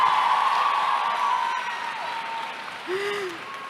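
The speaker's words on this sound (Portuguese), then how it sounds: "Uma salva de palmas, gente, porque elas merecem." Applause from a book fair audience at the Bienal do Livro Rio 2023 during a romance panel, a loud steady wash of clapping with faint crowd noise and a high tone running through it.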